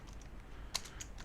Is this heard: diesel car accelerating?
no